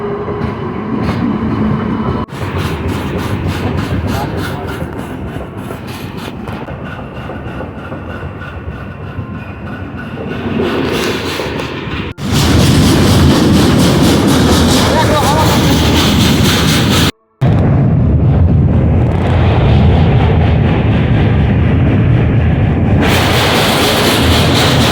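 A train runs on rails on the approach to Sealdah station in Kolkata, giving a steady loud rumble with rising and falling rolling noise and one brief dropout, and announcements or voices are faintly mixed in.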